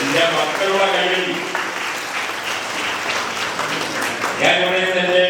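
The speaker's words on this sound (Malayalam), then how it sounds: "എന്റെ മക്കളുടെ കൈയടി" Children clap together in a sustained burst of applause at a community charity event, loud and steady with a brief swell near the end, with voices mixed underneath.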